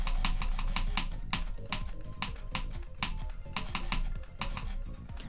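Rapid, fairly steady mouse clicking while flying a UFO through the Bloodbath level of a video game, sharp close clicks riding over loud, driving game music with no talking.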